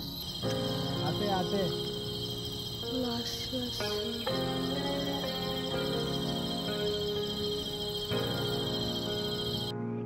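Evening crickets at a forest resort in the Dooars make a steady, high, continuous chorus behind a person talking, and the chorus stops abruptly near the end.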